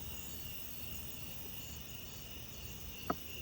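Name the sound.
insects outdoors at a fossil site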